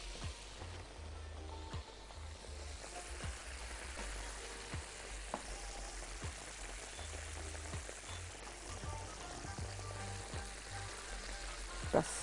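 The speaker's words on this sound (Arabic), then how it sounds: "نكمل قليها" Beef steak cutlets frying in a pan give off a steady, quiet crackling sizzle with scattered sharper pops and occasional utensil ticks, continuous and close.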